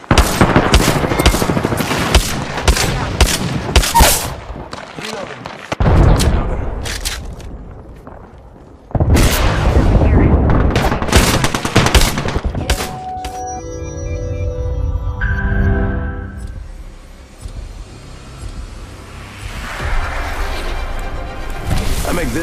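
Grenade blast and bursts of gunfire in the Apex Legends battle royale shooter, loud sharp cracks and crashes in the first half giving way to tonal game effects and chimes, with brief voice callouts.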